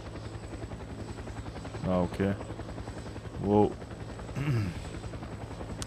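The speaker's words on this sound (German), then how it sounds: "Jetzt sind wir im Helikopter." A helicopter in the video game Fear the Wolves drones with a steady, rhythmic rotor chop throughout, while a person speaks briefly over it.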